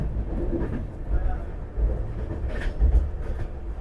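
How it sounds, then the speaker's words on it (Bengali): An Amrit Bharat Express passenger train running at speed, a steady low rumble with periodic heavier thumps as wheels pass rail joints, heard from inside the carriage with no talk. "ট্রেন ভালোই স্পিডে চলছে।"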